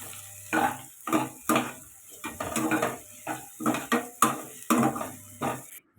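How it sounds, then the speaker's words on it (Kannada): Dried red chillies roast in a hot, dry pan, with a rhythmic series of scraping stirs and faint crackle, close and moderately loud. "ಇವಾಗ ಚೆನ್ನಾಗಿ ಡ್ರೈ ಆದಮೇಲೆ ಒಣಗಿದ ಮೆಣಸಿನ್ಕಾಯಿ ಎಲ್ಲ ಹಾಕ್ಕೊತಾ ಇದ್ದೀನಿ"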